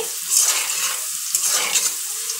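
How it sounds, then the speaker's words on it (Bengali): Unpeeled potatoes frying in a pan, a bright crackling sizzle broken by a few bursts of stirring and scraping, close and clear, with no talking. "একটু আলু সুন্দর করে ভেজে নেব"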